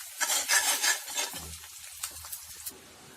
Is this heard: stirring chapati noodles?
yes